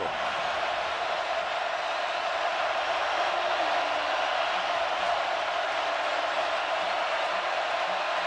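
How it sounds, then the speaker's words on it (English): A football crowd at Tiger Stadium during a LSU versus Auburn game roars as a steady, distant wash of noise, continuous under a broadcast commentator's talk. "The noise is an issue from the crowd at Tiger Stadium."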